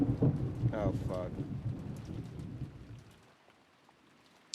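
Rumbling thunder and steady rain from a storm scene in the Umineko visual novel, heavy at first and then fading away, with a few voices speaking over it near the start.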